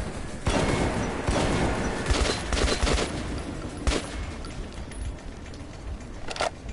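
Gunfire in Metro 2033, a dense burst of rapid shots followed by scattered single cracks and loud impacts, close and harsh, with no talk.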